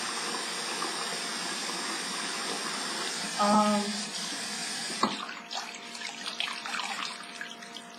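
A tap runs steadily into a sink during face washing, a close, even rush that cuts off midway, followed by softer splashing and drips.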